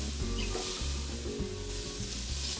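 Vegan tortilla soup sizzles and cooks down in a pan, with steady frying crackle and a few scraping stirs, loud and close, with no talking.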